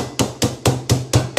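Crumb-coated chicken breast is pounded on a wooden butcher's block, six or seven loud, close, evenly spaced dull thuds in a quick steady rhythm.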